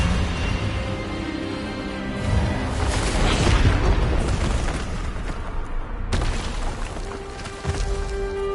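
A spell cast in a Hogwarts Legacy wizard duel erupts as a rumbling, booming magical blast that swells in the middle, followed by a sharp crack and a lingering hum, with no voices present.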